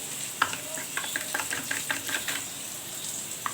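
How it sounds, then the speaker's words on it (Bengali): Vegetarian aloo dum, a potato curry with yogurt, chilli powder and salt, bubbles in a pan, giving a soft steady sizzle broken by light scraping and clicking as it is stirred. "ভালো করে ফুটিয়ে নিচ্ছে"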